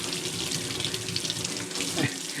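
Hot tap water runs into a sink while a K-bar knife is rinsed clean of mold, a steady close splashing gush that goes on for a couple of seconds.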